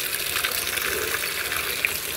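Water gushes steadily from a tap while new clothes are rinsed in plain water, a continuous close splashing wash with no talking.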